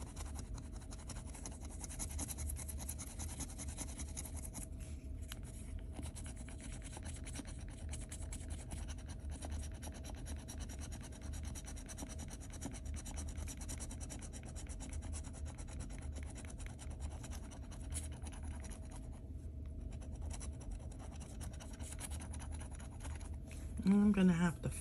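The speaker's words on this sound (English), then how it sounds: "That's a lot of scratching" A lottery scratch-off ticket is scratched in a steady rasping rub that runs for a long stretch, close, with a louder scuff at the end.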